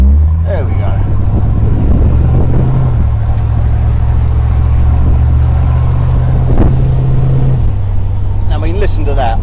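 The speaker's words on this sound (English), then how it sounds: "All you can hear is exhaust." Retro Ford car exhaust while driving, a loud steady low drone with pitch shifting slightly as the engine changes load, heard from inside with a person speaking over it.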